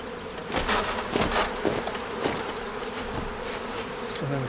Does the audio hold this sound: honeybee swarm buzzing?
yes